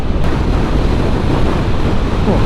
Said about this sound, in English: this wind's really getting to me again